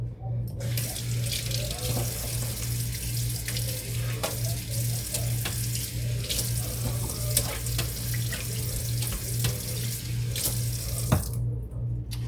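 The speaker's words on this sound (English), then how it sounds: "Let me wash my hands." A kitchen tap runs steadily for hand washing, a close, continuous stream of splashing water over a low hum, stopping abruptly near the end.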